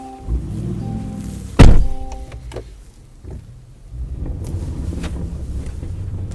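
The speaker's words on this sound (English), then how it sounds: "V8 mumble or rumble to life" The supercharged V8 of a Land Rover Defender 90 starts up with a sharp loud thump, then settles into a low, muffled rumble that grows steadier toward idle, with some wind noise around it.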